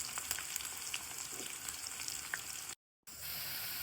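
Chopped onions, green chillies, cumin and mustard seeds sizzle steadily in hot oil, a soft, continuous crackling fry close by with a brief silent gap near the end.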